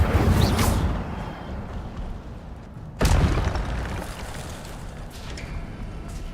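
Incendio fire spell cast in a Harry Potter video game: a roaring, rushing whoosh of flame that fades, then a sudden sharp burst of fire that roars on steadily.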